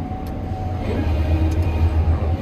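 A Gleaner S98 combine harvester engine runs at full throttle in a steady, loud, low droning rumble with a faint whine on top.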